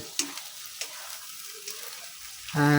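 Adobo-style sautéed string beans sizzle quietly in a pan, with a few soft scrapes of stirring and a louder rising sizzle at the end.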